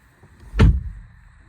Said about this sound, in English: Very reassuring thud to that door.